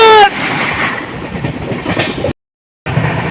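The Padatik Express runs at speed with a loud, continuous rattling roar and clacking wheels. A brief faint tone opens the sound, and a short gap of silence breaks it before the rumble resumes.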